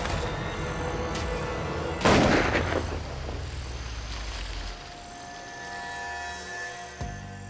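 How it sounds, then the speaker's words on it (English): A gun fired at a caught alligator in a swamp: one loud, close blast about two seconds in with a long rumbling decay, then a sharper second crack near the end, with no talking. "Get him up quick, I need to shoot him."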